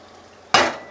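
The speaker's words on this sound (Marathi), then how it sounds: "आता हे वाटण आहे ना ते चांगलं परतून घ्यायचं आपल्याला" Ground dry-coconut masala paste going into a hot pan for sautéing, heard as a single sudden burst of sizzling clatter that fades within half a second after a quiet start.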